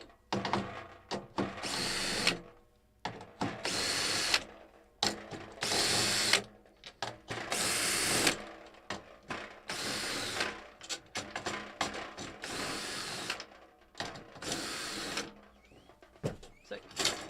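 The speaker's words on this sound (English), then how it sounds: "this is why you have the drill, because it makes head changes so much faster." A power drill swapping heads during a live unboxing runs in repeated short bursts, loud whirring spurts separated by brief pauses and ratcheting clicks, close to the microphone with no talking.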